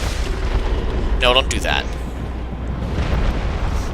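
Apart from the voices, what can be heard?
boss attack explosion in video game Dark Souls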